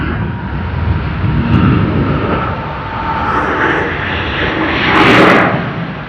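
Singapore Airlines flight SQ232, a jet airliner departing Sydney Airport, makes a steady, broad roar that holds at a moderate distance throughout, swelling slightly louder near the end without any talk over it.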